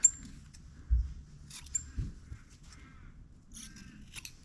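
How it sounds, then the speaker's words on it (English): Scissors snip the corners off a toy sleeping bag made of felt and fabric layers: several short, crisp cuts spaced irregularly, close and fairly quiet. "Now I'm going to cut off the corners to help reduce some of the bulk."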